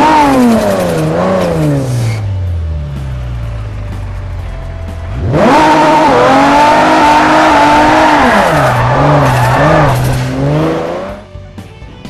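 A DeLorean races at Infineon Raceway in Forza, its engine loud and close, climbing and falling in pitch through upshifts, a lift-off and a hard re-acceleration.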